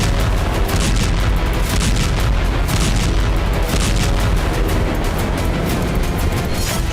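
Loud, continuous rumbling blasts of Israeli airstrikes hitting Houthi targets in Yemen, a dense wall of booms and artillery-like thuds with no pauses.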